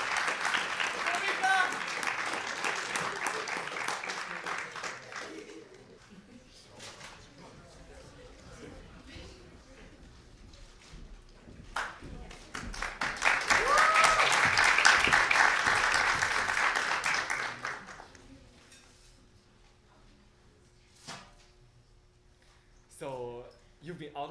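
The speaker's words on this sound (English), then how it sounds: "Please give them a round of applause." An audience claps after cast introductions for a high school ensemble acting performance of a play, the applause swelling to a loud peak midway and fading out, with speech from the stage before and after.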